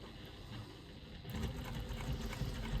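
Sewing machine stitching a quarter-inch seam down a bag strap. Quiet room tone gives way partway through to a close, steady mechanical hum of stitching that continues to the end.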